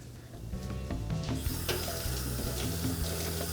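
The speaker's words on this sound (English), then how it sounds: "I'm gonna thin this out with a little bit of water" Water runs steadily from a kitchen tap into a pan to thin a cooking sauce, a continuous close splashing rush that grows slightly fuller partway through, with no voices.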